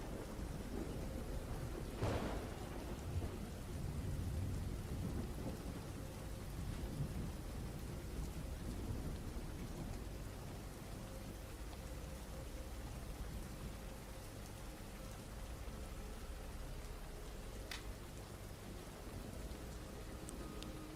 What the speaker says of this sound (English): This is gonna be the most ASMR episode we've ever had with all this rain sounds.